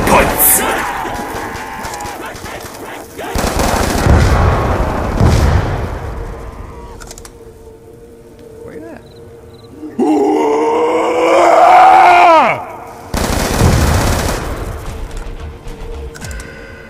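Gunfire in Black Ops 2 Zombies on the Farm survival map: loud bursts of shots come in separate bouts, with groaning zombies and a player's voice mixed in between.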